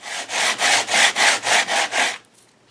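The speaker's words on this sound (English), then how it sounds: "Bring my sand block in. I'm just going to hit some of these areas that look too flat to me." A sanding block scrubs back and forth over a board book page, seven or eight even, loud rasping strokes in a steady rhythm before stopping abruptly.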